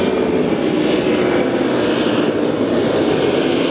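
A FedEx Airbus A300-600 wide-body twin-engine freighter taking off and climbing out of Memphis, a loud, steady, broadband engine roar that fills the whole clip close by.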